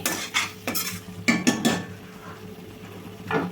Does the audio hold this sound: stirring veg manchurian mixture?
yes